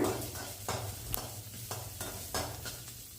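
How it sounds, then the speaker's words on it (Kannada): Onion and Byadgi chillies frying in a pan for restaurant-style butter chicken masala, a steady close sizzle broken by several scraping stirs of a spoon against the metal, no voices. "ಮೂರು ಬ್ಯಾಡಿಗೆ ಮೆಣಸಿನ್ಕಾಯಿನ ಫ್ರೈ ಮಾಡ್ಕೊಳ್ಳೋದಕ್ಕೆ ಹಾಕ್ತಾಯಿದ್ದೀನಿ"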